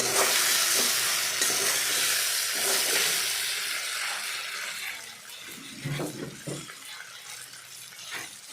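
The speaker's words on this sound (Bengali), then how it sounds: "তারপরে আমি ধনের গুঁড়ো দিয়ে কপিটাকে ভালো করে ভেজে নিলাম।" Cauliflower frying with coriander powder sizzles loudly and continuously while being stirred, with scraping and knocking toward the end as the sizzle eases somewhat.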